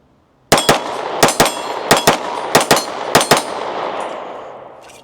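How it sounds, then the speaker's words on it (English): Pistol shots ring out on a body-size steel plate target about 15 yards away, each a sharp crack paired with a bright metallic clang, fired in quick doubles five times, with a long ringing decay fading after the last hits. "I'm shooting a body size plate steel"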